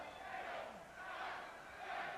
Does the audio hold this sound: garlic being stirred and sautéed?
no